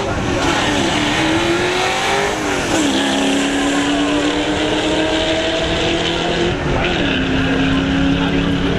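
The White Zombie, an electric drag car running on lithium-ion batteries, races at the track with a loud, continuous rising electric motor whine. The pitch climbs repeatedly in long sweeping ramps over a steady rumbling roar, with no engine pops.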